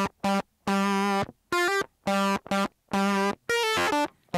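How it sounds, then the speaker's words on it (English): Thick, buzzy distorted guitar notes from an Octafuzz octave fuzz pedal, played in short bursts with gaps between them, sounding synthetic and fuzzy, with no other sounds. "So he uses a pedal, it's an Octafuzz pedal."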